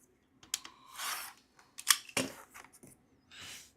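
Fabric scissors make several sharp, close snips as they trim the corner of a quilt top, with short bursts of cloth rustling between the cuts.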